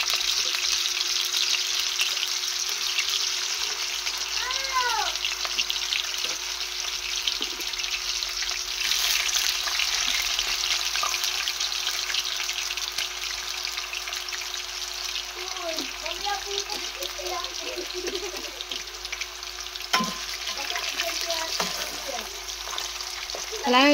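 Tokwa (tofu) fries in oil in a pan with a dense, continuous sizzle that holds steady throughout, with occasional faint voice fragments underneath.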